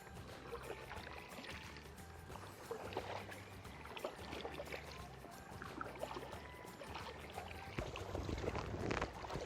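A kayak paddle pulls through the water of Upper Lake. Soft, steady splashes and trickles come close by and alone, in a gentle repeating rhythm with no talk.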